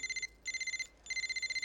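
A phone on loudspeaker in a film rings in two short bursts of rapid electronic trilling with a brief gap between them. It sounds moderately close, and no one speaks.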